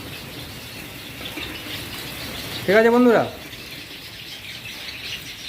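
A single short, loud chirp from a white Java sparrow rises over steady background noise, with someone talking briefly.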